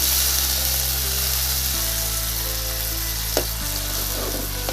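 Masala gravy mixed with water is stirred in a frying pan, making a loud, continuous bubbling sizzle over a steady low hum, with one brief clink.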